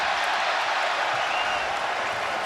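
A hostile crowd at a Hilton Coliseum men's college basketball game, Iowa against Iowa State, roars and applauds in a steady, dense wash of cheering that fills the arena throughout.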